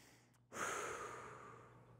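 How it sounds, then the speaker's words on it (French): A single short breath during an adapted karate class: one soft, close exhale that starts abruptly and fades over about a second and a half, alone with no talk. "Petite respiration."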